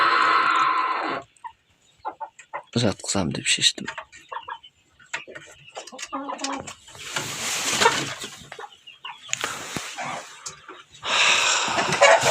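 Kucin breed hens in a backyard coop give scattered short clucks between bursts of rustling and handling noise, while a person talks over parts of it.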